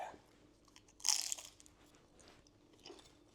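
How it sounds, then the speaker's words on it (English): A crispy air-fried spring roll with a wrapper from an Asian supermarket, dipped in sweet chilli, is bitten with one loud, close crunch, then a few softer chewing crackles. "You can definitely hear that crunch."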